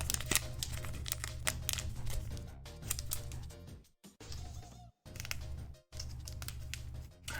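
A tight Pokemon card pack wrapper is crinkled and worked at by hand nearby, with busy crackling plastic and brief pauses between bursts of rustling.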